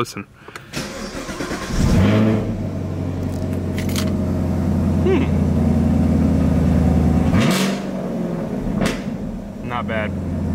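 A bone-stock Chevrolet Camaro SS 1LE V8 cranks and fires up with a loud bark, then settles into a deep, rumbling idle with a few throttle blips, while someone speaks briefly nearby.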